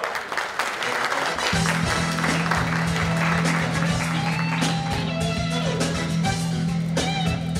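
A large crowd claps steadily at a Democratic Party leadership candidates' joint rally in Jeju as the next speaker is welcomed, with a loud continuous wash of applause over a sustained low tone and a few faint voices.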